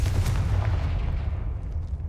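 A Confringo fire spell in Hogwarts Legacy lands as a deep, rumbling blast, a heavy low boom that holds steady and then slowly fades over about two seconds, with no talk over it.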